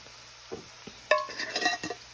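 Dehydrated celery tipped into a cooking pot for red beans and rice: a few soft taps and light rustling scatter, then a brief sizzle and stir, close and quiet.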